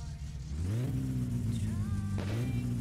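A car engine in My Summer Car catches and revs, a steady close mechanical drone that climbs in pitch and holds a strained, rising whine without letting up.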